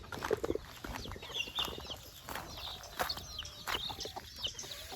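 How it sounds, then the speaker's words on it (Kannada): Hens clucking with baby chicks peeping among them at a home poultry run fed with household scraps; soft, scattered clucks and high cheeps keep up steadily in the background throughout. "ಇಲ್ಲೊಂದಷ್ಟು ನಮ್ಮ ಬೇಬಿ ಚಿಕ್ಸ್ಗಳು ಕೋಳಿಗಳೆಲ್ಲ ಇಲ್ಲಿದೆ"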